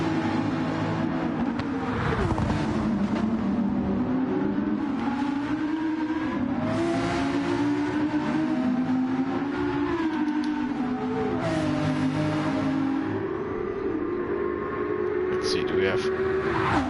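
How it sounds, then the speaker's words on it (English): Several race cars in a Spa 24-hour endurance race in a racing video game, including a Porsche, scream through rising and falling revs as they pass, continuous and loud, with a voice commentating over the engines throughout. "I hear the beautiful Porsche again of Dark Monkey"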